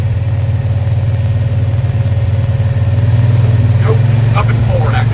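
1965 Cushman Truckster engine droning steadily as the vehicle drives, a loud, even low putter that builds slightly toward the end, with faint brief sounds near the close.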